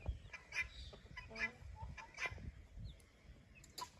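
A hen clucks several times in short bursts against a noisy, rustling farmyard background, with other faint bird calls nearby.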